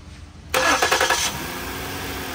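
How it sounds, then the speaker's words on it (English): A truck engine cranks and catches, a loud burst of starter noise for under a second, then settling into a steady idle rumble. "Can you hop in this truck right here and start the engine for us?"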